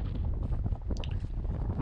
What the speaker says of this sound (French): sur les crêtes d'Aise, le vent souffle fort, très fort, et il fait froid